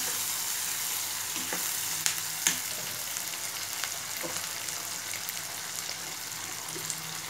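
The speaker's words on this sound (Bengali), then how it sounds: "আমি এটা এখন একটু নেড়ে নিব।" Chicken mince frying in a pan for pasta, with a loud, steady crackling sizzle and a few sharp scrapes and knocks as it is stirred.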